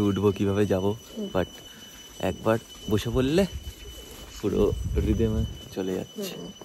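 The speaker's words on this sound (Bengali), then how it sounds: "ঝিঝি পোকার ডাক জঙ্গলের" Crickets in the jungle of Gorumara in the Dooars keep up a faint, steady high trill beneath close, continuous talking.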